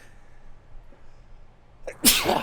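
A single sharp sneeze bursts out near the end after a quiet stretch of room hush.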